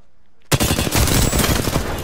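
Rapid automatic gunfire from the Apex Legends video game bursts in after a brief quiet moment and continues loud and dense to the end.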